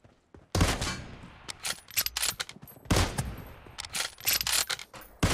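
Gunfire from a 1v1 no-scope match in PUBG Mobile: loud, sharp bursts of shots in irregular clusters with quieter mechanical clicks between them, and no voices.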